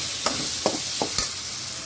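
A spatula stirs spiced ridge gourd fry seasoned with pepper and chilli powder in a pan, four short scraping strokes close up over a steady soft sizzle.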